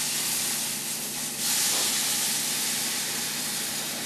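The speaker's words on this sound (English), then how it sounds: "the butter is going to sizzle a little" Steady broadband hiss of butter sizzling in a hot pan, continuous and fairly loud, swelling slightly midway, with no voices.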